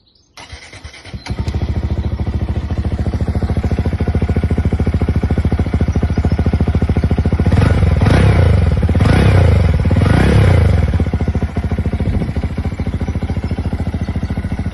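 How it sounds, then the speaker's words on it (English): A Honda Grom motorcycle fitted with a Zoom Brute exhaust starts up with a quick crank, then settles into a loud, close, chattering idle that swells with a few blips of throttle midway before steadying again. "a clip of his Zoom Brute exhaust on his otherwise identical Grom"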